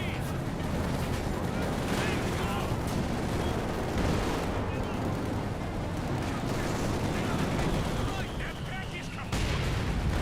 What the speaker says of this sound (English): Heard a Panzerwerfer barrage somewhere, just not sure where.